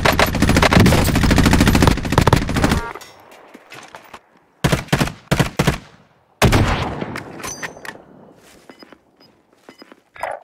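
Machine-gun fire in Call of Duty Warzone: a loud sustained rapid burst, then quieter sputters, a short cluster of sharp shots, and another burst fading into sparse clicks and footsteps.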